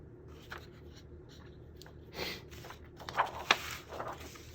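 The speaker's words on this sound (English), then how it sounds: "I'm just going to mark this real simply." Pencil marks on paper for a junk journal make a few soft, close scratching strokes with small taps, faint against quiet room noise.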